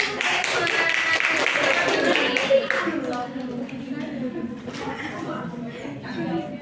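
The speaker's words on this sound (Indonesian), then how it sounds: "Tepuk tangan" A classroom group claps together in sustained applause, mixed with voices and a bit of chatter in the room.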